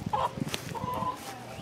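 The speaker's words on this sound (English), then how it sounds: "Got the chickens chilling." Backyard chickens cluck softly in a few short bursts, close by and fairly quiet over steady outdoor background noise.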